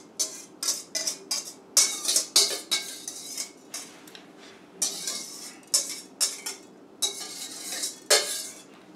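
A metal spoon scrapes and clinks against a casserole dish while vegan food is scooped out, a series of short scraping strokes with pauses between them, close and clear with no voices.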